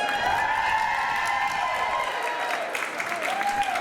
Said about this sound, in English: what about applause for the people who were not here in 1956?